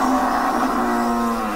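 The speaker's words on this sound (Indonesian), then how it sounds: "Saurun banteng." A banteng bull gives one sustained, tonal low moo that carries close and loud from start to finish.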